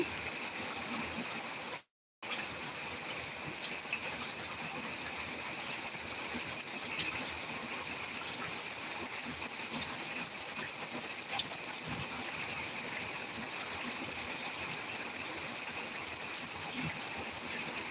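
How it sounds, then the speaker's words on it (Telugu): Heavy monsoon rain pours over a village during a thunderstorm, a dense, steady rushing hiss lasting throughout at an even, loud level, broken only by a brief gap near the start. "ఫుల్ వర్షం పడుతుందండి బాగా ఉరుముతుంది మెరుస్తుంది"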